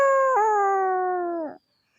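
A voice imitates a wolf howl: one sustained, wavering howl lasting about a second and a half, loud and close, that bends slightly early on and then cuts off abruptly into silence.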